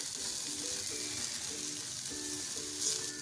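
Finely chopped green chillies fry in a pan for a bread samosa filling, giving a steady close sizzle with faint background music and no talking.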